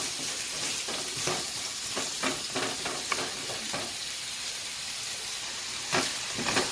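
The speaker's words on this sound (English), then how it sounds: "So the pumpkin and the carrot is sauteing, you can see." Chopped pumpkin and carrots sautéing in a pan for Jamaican-style steam fish, a soft continuous sizzle with occasional stirring scrapes and clinks, fairly quiet and close with no talking.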